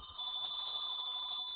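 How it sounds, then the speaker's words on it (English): A telephone rings in a steady electronic tone, sustained without a break through the whole moment after a brief quieter start, fairly loud and alone with no voices. "Why is the phone ringing?"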